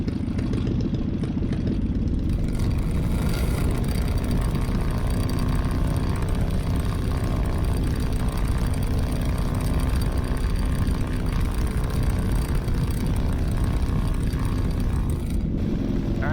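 A Team Minimax 1100r light aircraft engine runs at throttle during a ground mag check, a loud steady propeller drone that holds without break, close to the microphone, with no talking over it.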